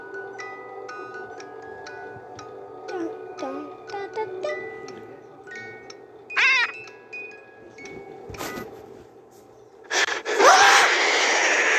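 Phantom Freddy's raspy, wheezing breaths in the horror game FNAF Ultimate Custom Night, heard as a series of short gasping inhales among electronic beeps and tones, ending in a loud burst of static.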